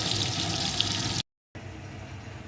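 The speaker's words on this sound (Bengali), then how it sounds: "পটলগুলোকে আমি সুন্দর করে ভেজে নেব" Slices of pointed gourd (potol) frying in hot oil give a steady, dense sizzle that fills the clip, cut by a brief silent gap before the frying resumes, with no voices.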